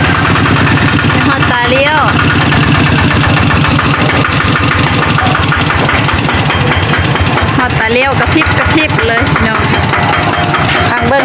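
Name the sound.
Kubota small diesel engine idling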